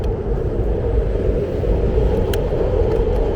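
An elevated Market-Frankford Line train on the L rumbles by overhead in Philadelphia's Kensington area, a loud, steady low roar filling the whole stretch with no break.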